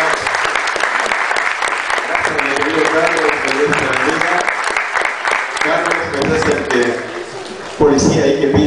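A film premiere audience claps loudly and continuously, dense overlapping hands with people talking and cheering underneath, ending in a sudden louder burst of voices.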